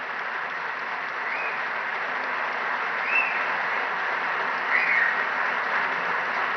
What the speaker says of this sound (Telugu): పెద్ద ఎత్తున మీరు చప్పట్లతోని వారిని అభినందించండి.